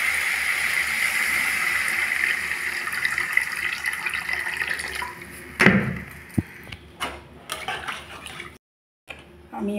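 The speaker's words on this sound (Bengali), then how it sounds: "এই যে তেল ছেড়ে দিয়েছে, এখন দিয়ে দিচ্ছি জল।" Water is poured into a pan of vegetables fried with spices for a thin fish curry, a steady splashing hiss followed by a few clanks and knocks.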